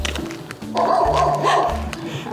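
A dog at a neighbouring house barks loudly in a rapid string of yips and woofs, close and clear, with a faint voice underneath.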